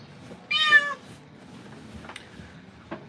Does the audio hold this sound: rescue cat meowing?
yes